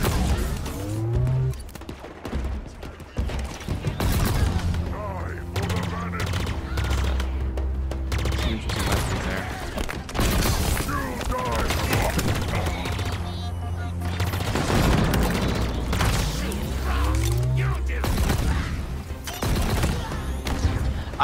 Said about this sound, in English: I'm loving the new sound effects, or the revised sound effects for the weapons.